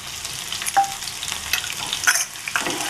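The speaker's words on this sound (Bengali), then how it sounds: "এবার পেঁয়াজটাকে বাদামি কালারের ভেজে নিচ্ছি" Chopped onions frying in a pan with cumin, cooking toward brown for a taro curry: a steady close sizzle with intermittent scraping stirs and a few sharp clinks of a utensil, no talking.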